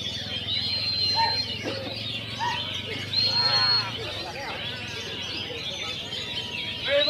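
Songbirds at a bird song contest chirp and trill in short bright phrases over a busy background, with low talk and crowd murmur running underneath.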